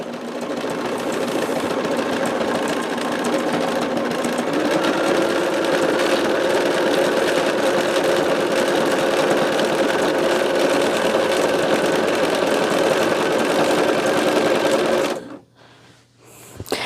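Sewing machine stitching quilt binding with a 20C foot, heard as a steady, fast mechanical whir and rapid needle chatter that runs continuously up close, then stops abruptly near the end, with no talking.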